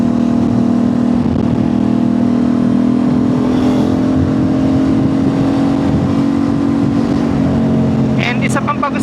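An Aprilia RS660 motorcycle engine drones loudly at a steady pitch as it accelerates, recorded close up with strong wind noise and a brief rattle near the end.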